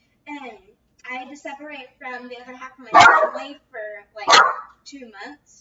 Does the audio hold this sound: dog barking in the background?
yes